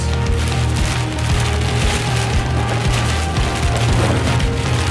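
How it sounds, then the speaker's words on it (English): Strong, gusting wind from a spring storm in Fond du Lac buffets the microphone in a loud, continuous roar, with heavy low rumbling surges throughout and no talking. "Really high wind gusts."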